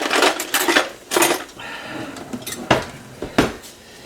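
A casserole dish being picked up and set down in a home kitchen, with close, loud clinks and knocks in separate bursts and a brief softer scrape in between, no speech.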